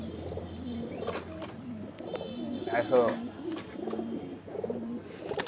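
Pet pigeons coo repeatedly close by in a rhythmic series of low, throaty calls, while someone speaks briefly over them.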